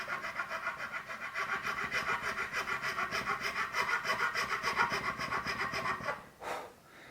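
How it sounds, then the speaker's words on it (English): A narrow needle file rasps through a guitar nut slot during a Stratocaster baritone conversion, with steady rapid back-and-forth strokes, close and fairly loud, stopping abruptly near the end. "I think I'll just use a narrower file just to get it started."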